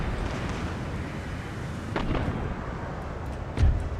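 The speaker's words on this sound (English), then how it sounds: "Oh, it's a mortar battery." Mortar battery firing in the video game Empire: Total War, with distant booming artillery under a constant rumbling battle din and one louder, deeper thud near the end.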